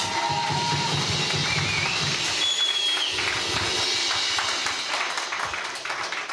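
An audience applauds the project team at a music event, a dense, sustained crackle of many hands clapping that stays loud and only eases slightly at the end.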